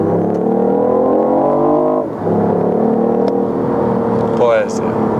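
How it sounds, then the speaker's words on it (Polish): A 2014 BMW i8 with a 362 hp engine is pushed to high revs while driving at about 50 km/h, its loud droning note climbing steadily, dropping briefly at a shift, then holding and rising again. "posłuchajcie jeszcze tego, jak ten silnik brzmi, kiedy wkręcamy go na wysokie obroty"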